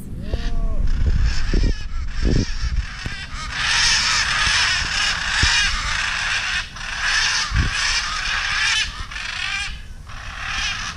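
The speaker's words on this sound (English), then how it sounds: "Yeah, some sort of parrot." Parrots, blue on top and yellow below, give harsh, squawking calls in bursts over a steady background hiss, several loud cries near the start and scattered calls later.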